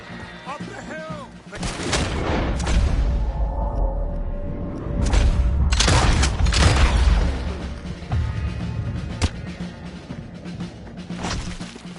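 Cannon fire in a video game battle, heavy booming blasts and gunshots amid the chaos of combat, with voices shouting over them.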